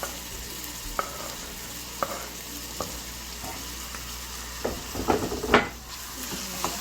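Jalapeno and serrano peppers fry in a pan for huevos rancheros, a soft sizzle punctuated by a few evenly spaced taps of a utensil, then a brief louder burst of stirring near the end.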